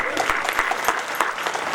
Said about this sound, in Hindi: ऐसे दानदाताओं के लिए एक बार जोरदार ताली